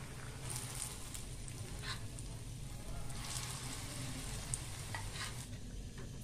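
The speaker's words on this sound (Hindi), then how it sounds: "अच्छे से पकौड़े क्रिस्पी हो गए हैं, अब इनको निकाल लेंगे और बाकी के फ्राई कर लेंगे" Pakoras deep-frying in hot oil, a continuous soft bubbling sizzle with faint crackles, steady and fairly quiet throughout with no talk.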